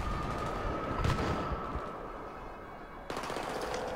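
Gunfire from the video game Battlefield 3 rattles as a dense, continuous burst of rapid automatic shots, fairly faint and steady, with a short break before it resumes.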